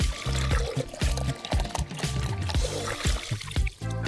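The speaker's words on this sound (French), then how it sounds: "Maintenant, on va remplir un autre récipient d'eau." Water poured into another container, a close gurgling splash with uneven bubbling pulses that drains away near the end, no voices.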